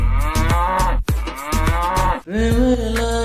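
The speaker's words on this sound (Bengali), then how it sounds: "দুষ্টু গরু ডাকে রে" A cow moos loudly and nearby, three long drawn-out bellows one after another with brief pauses between.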